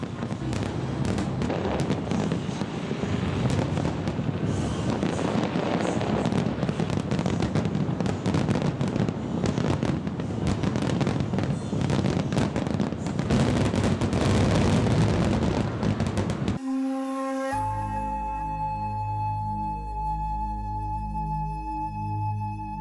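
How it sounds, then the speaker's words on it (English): Fireworks burst over Hong Kong's night skies, a dense continuous barrage of crackling booms and pops, loud and sustained, before giving way abruptly to music near the end. "Multicolour butterflies are released by the thousands of fireworks which light the night skies."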